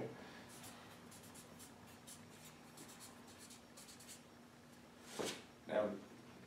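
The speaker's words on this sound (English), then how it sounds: "Now, why did I write on this side of the paper versus that side of the paper?" Pen or pencil writing on paper during a scripture lesson on Alma chapter 43, faint scratchy strokes close by in a quiet room, with two louder brushing movements near the end.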